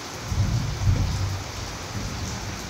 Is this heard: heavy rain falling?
yes